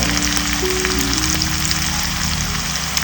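Onion, chilli and coriander powder sizzle loudly in a hot pan for a Goan brinjal curry, a steady dense frying hiss throughout, heard alone.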